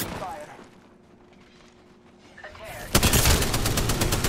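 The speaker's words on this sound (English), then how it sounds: "I'm under fire." Gunfire breaks out in the video game Apex Legends during a ranked match, a loud burst of rapid shots arriving near the end after a quieter stretch with faint game ambience.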